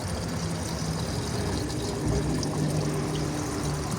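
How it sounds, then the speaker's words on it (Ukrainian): Water pours steadily into a garden sprayer tank, about nine litres, a continuous splashing rush that holds an even level close to the microphone with no talk. "ну я налью хай 9 літрів води"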